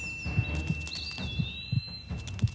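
A cartoon heartbeat meant as the heart of a forest, soft low double thumps repeating at a steady slow pulse, with a faint high tone above and no talk.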